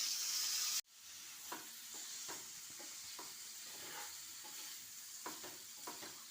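Paneer in palak gravy is stirred gently in a pan, with soft scraping strokes repeating every second or so over a quiet, steady sizzle after a sharp cut at the start.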